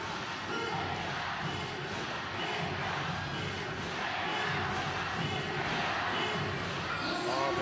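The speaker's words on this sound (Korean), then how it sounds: "선수 이름을 부르는 관중들의 함성이 네. 또렷하게 들립니다" Stadium crowd at a volleyball match roaring and chanting players' names, a dense, sustained wash of voices filling the hall, loud and continuous, with a commentator talking over it.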